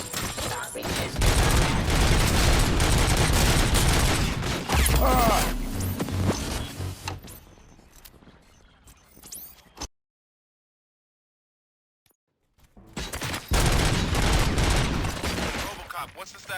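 Gunfire from the video game RoboCop Rogue City comes in loud, dense bursts of rapid shots, dropping into near silence for a few seconds midway before another barrage resumes.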